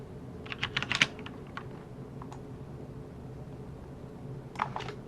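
Computer keyboard typing in two short bursts of close, light keystrokes, separated by a quiet stretch with a steady low hum underneath.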